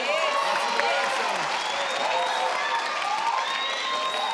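Studio audience clapping and cheering on the Family Feud Africa game show set, a steady broadband wash of applause with voices mixed in throughout.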